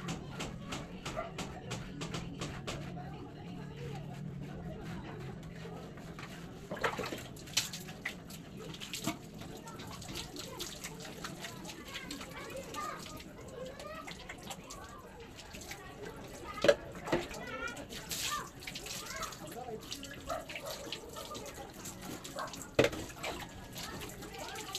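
Water running and splashing while a dog is bathed, a steady wash of flow with occasional drips and clatter, under intermittent talking nearby.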